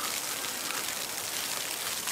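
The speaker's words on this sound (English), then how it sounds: "more rain and wet snow" Rain and wet snow falling in the woods, a soft, even patter and hiss of drops, steady and fairly faint, ending with a sudden louder knock.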